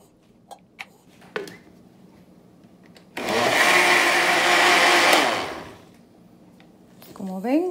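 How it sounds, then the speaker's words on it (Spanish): Electric blender whirring loudly and steadily as it blends flour, milk and eggs into popover batter, a sustained burst of several seconds between quieter kitchen clatter and brief talk. "proseguiremos licuando nuestros ingredientes"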